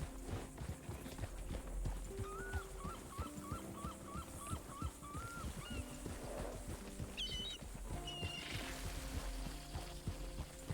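Horses clip-clop through a crowded Red Dead Redemption 2 town, steady hoof beats mixed with game ambience, background chatter and a few short musical chimes.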